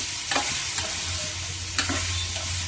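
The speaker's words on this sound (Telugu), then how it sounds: "అదిగోండి, వేగుతుంది కదా, బాగా వేగుతుంది." Brinjal curry frying in oil in a pan gives a loud, steady sizzle throughout, with a few close scraping clicks from stirring.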